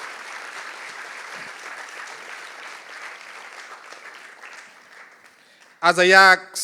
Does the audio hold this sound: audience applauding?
yes